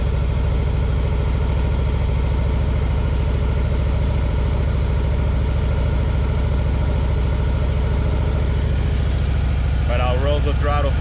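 A Harley-Davidson motorcycle engine idles steadily at too-high revs, a constant loud drone with a rapid even pulse, and a voice briefly starts talking over it near the end.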